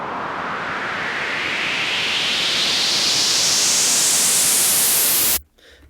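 White noise riser for a house track, shaped with an EQ boost, a loud hiss that brightens and climbs steadily for about five seconds before cutting off abruptly into near silence.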